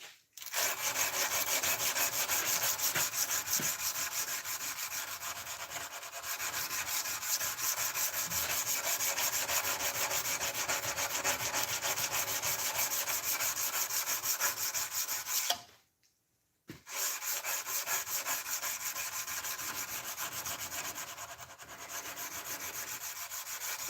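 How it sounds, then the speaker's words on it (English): A Damascus steel knife blade is hand sanded toward 600 grit, heard as close, continuous rasping strokes that run evenly with one brief pause. "the hand sanding has to be really well done, really even, and I have to bring it up to about 600 grit"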